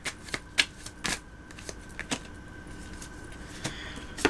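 Oracle cards shuffled by hand in a quiet room, giving a series of sharp, irregular riffling snaps and flicks, close and fairly soft, with no speech.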